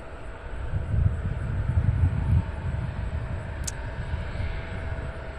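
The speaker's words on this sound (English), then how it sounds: "Delta Flight 5148 heading to Washington, D.C. in a 15-year-old CRJ 900. Making its way to the end of 18 left." A 15-year-old Delta CRJ 900 regional jet taxiing toward runway 18 left at Cincinnati airport, a low rumbling engine hum with a thin steady whine, moderately loud and continuous.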